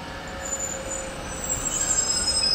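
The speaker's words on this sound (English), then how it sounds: "Here's our train." A train rolls in with steady rumbling and high, thin wheel squeal that builds slightly, heard nearby without talk.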